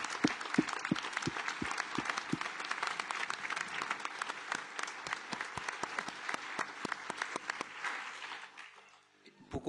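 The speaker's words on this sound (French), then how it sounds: "je pense qu'on peut l'applaudir tout de suite" An audience applauds at a lecture on nanoscience and nanotechnology, a sustained wash of clapping with a few sharp individual claps standing out, fading toward the end.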